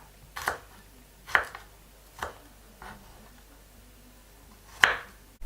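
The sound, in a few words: chopping garlic into large pieces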